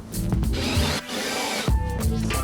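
A power drill whirs in bursts as it bores holes through wood for a vocal booth, with brief pauses and grinding changes in pitch between runs, close by.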